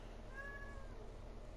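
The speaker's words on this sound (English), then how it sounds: "My cat's in the room." A house cat meows once indoors, a single drawn-out, gently falling cry over a low steady background hum.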